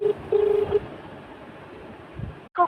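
A phone call being dialed, with a few short tonal dialing beeps near the start and again at the end, fairly clear over a low background hiss.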